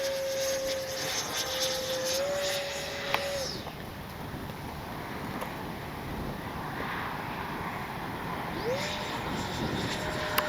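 A Freewing 90mm J-10 RC jet flies past with a steady, broad turbine roar and hiss, approaching and receding at a distance, with no talk over it.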